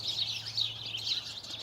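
Small birds chirp and twitter continuously under a stand of planted bamboo in a backyard, the calls close and fairly loud over a low steady hum, with no voices.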